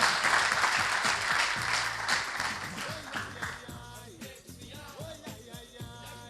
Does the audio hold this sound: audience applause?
yes